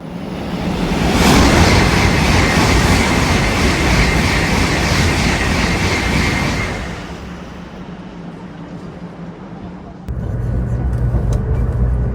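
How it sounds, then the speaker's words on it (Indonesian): A Nozomi Shinkansen passes a stopped Kodama train at a station, making a loud, rushing roar that builds quickly and holds for several seconds before fading to a low hum. A short rumble returns near the end. "Mari kita tunggu kereta Nozomi-nya nyusul kereta Kodama yang saya naiki."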